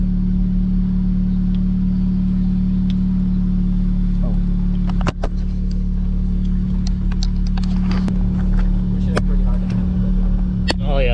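Steady low engine drone from inside an Audi S3 widebody on a ride along, holding a constant rumble with occasional clicks and bumps and no clear revving.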